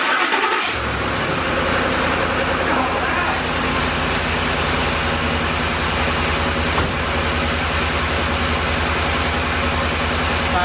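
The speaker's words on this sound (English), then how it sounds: "Let's go ahead and fire it up and see what happens." Car engine cranking and catching after a misfire repair, then settling into a steady, even idle that stays loud and close for about ten seconds.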